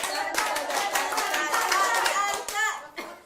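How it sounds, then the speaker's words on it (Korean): A group claps together in a quick run of eight sharp, evenly spaced hand claps, mixed with children's voices and lively chatter. "박수 8번 시작!"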